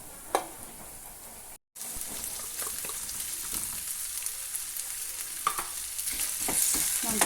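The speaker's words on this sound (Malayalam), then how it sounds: "ഇനി നമുക്ക് ഈ ക്യാൻഡ് ട്യൂണ അതിനകത്തേക്ക് ഇട്ട് കൊടുക്കാം." Canned tuna is stirred and sizzles as it fries in a pan, with scraping spoon strokes over a steady crackle and one brief dropout near the start.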